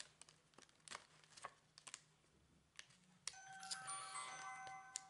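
A phone rings softly with a bright electronic tone that starts partway through, following scattered light clicks and rustles in a quiet room.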